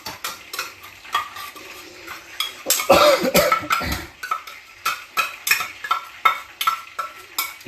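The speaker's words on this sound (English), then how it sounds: "And I'm going to mix in the spice paste." A spoon stirs spice paste into a dish cooking in a pot, making repeated scraping, clinking strokes in a steady rhythm over soft frying sizzle, close and fairly loud, with a cough-like burst near the middle.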